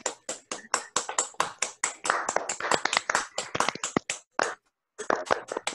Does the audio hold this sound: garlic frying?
no